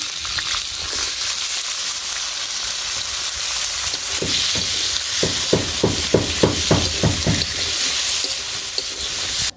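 Flat beans (shim) frying in oil in a pan during village cooking, a steady loud sizzle throughout with a run of sharp rhythmic clacks from stirring or scraping in the middle.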